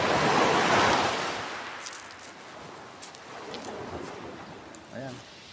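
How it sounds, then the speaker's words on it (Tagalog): Ocean waves wash ashore on a beach in Europe, with a loud surge at first that fades to a softer hiss under gusts of wind. "Nandito tayo sa tabing dagat muli."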